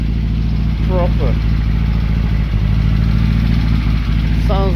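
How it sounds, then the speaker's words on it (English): 1970 Opel GT engine running with a misfire, a loud close rumble with an uneven, stumbling pulse, while a voice talks briefly over it. "Sounds like there's a misfire."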